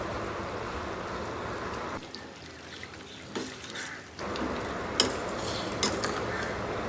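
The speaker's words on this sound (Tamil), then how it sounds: "இப்போ நல்லா ஒரு 10 நிமிஷம் ஹை ஃப்ளேமில் கொதிக்க விட போகிறேன்" A pot of goat head curry bubbles and sizzles steadily over a high flame, with a few soft pops and clinks.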